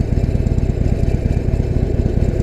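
A Harley-Davidson Forty-Eight Sportster V-twin idles just over 1,000 RPM with the clutch in, a loud, close, steady low throb with rapid even pulses and no voices.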